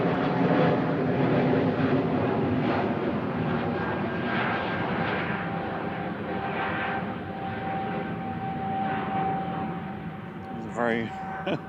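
A jet airliner rotates on takeoff at Manchester Airport, a steady, fairly distant roar of aircraft engines with a faint whine. A brief voice is heard near the end.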